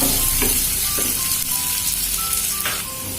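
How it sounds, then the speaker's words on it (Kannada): Onions fry in a pan for capsicum rice with a steady close sizzle, and a spoon clinks and scrapes against the pan now and then while stirring. "ಈರುಳ್ಳಿ ಹಾಕೊಂಡು ಫ್ರೈ ಮಾಡ್ಕೊಳ್ಳೋಣ."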